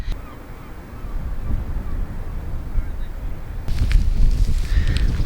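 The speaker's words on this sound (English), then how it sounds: "It's really quite windy here" Steady roaring wind buffets the microphone on a beach at Ardross Castle Sands, growing louder and gustier toward the end, with no talking.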